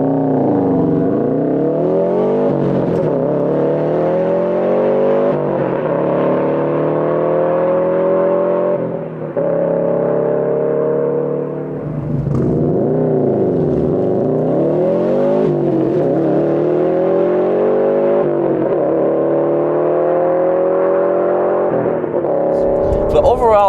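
Subaru WRX with an AWE Touring exhaust revs and accelerates through several long, loud sweeping pulls, the engine note rising and falling repeatedly, close and sustained for over twenty seconds.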